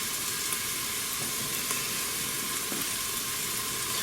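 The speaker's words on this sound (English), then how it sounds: "They're starting to cook, they're starting to saute real nice." Squirrel meat sautéing in a pressure cooker, a steady close hiss and sizzle of hot fat that holds even throughout, with a few faint clicks and no talking.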